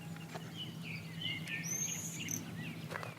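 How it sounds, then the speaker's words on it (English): Birds sing outdoors in Wales, faint and distant, with thin whistled phrases and chirps over a low steady hum and background noise; no one talks. "find a point where you can hear all the birds singing"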